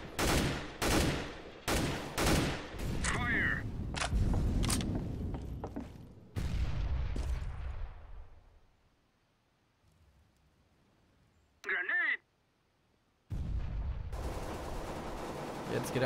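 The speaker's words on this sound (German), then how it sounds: "Da wurde nämlich schon fast zu viel mit der AK geschossen." Bursts of AK rifle fire in Counter-Strike: Global Offensive on the Inferno map, several rapid volleys close and loud in the first seconds, then quieter stretches, a brief metallic burst and a resumed loud passage.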